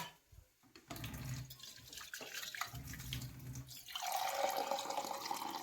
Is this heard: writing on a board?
no